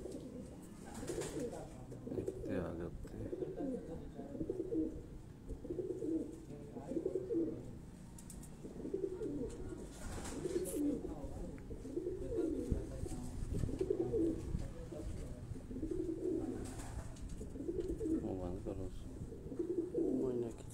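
Racing pigeons kept by a Karachi pigeon-flying party coo in a steady repeating rhythm, close and clear, a series of soft throaty calls, with faint background noise.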